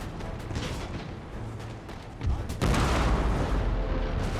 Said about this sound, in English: I feel like the mortars are just hitting our own guys and not doing too well.